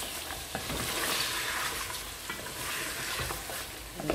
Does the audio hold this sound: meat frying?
yes